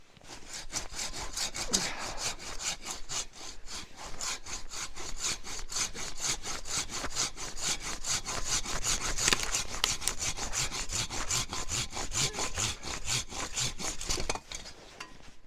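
Steady back-and-forth sawing through a tree limb with a Silky 500 folding hand saw, rapid rasping strokes continuing for a long stretch before stopping near the end.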